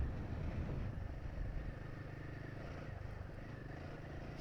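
A Royal Enfield Himalayan 450 adventure motorcycle on stock street tires rides a sandy, rocky dirt trail, its engine droning steadily and loudly close by with rumbling wind and road noise and no talking.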